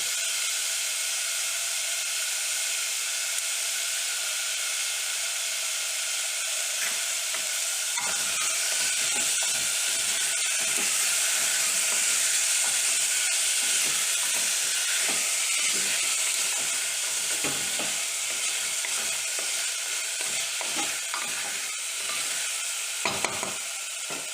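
Chicken stew in a frying pan is stirred steadily, a constant sizzle and steam hiss under scraping, clattering strokes that grow busier after the first few seconds, with no talking.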